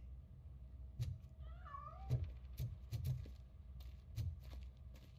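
A cat in RoboCop Rogue City, a video game, lets out a single faint meow while soft thuds and footstep-like knocks sound at intervals around it.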